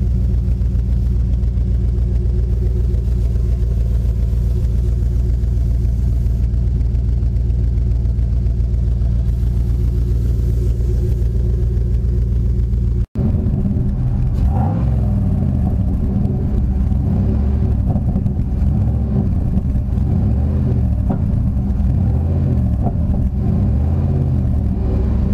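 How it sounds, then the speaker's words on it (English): A loud, deep truck engine with a modified exhaust rumbling at idle through a throaty exhaust, then an abrupt cut and a heavier, rougher burble close up. "I'm gonna give you a quick sound over."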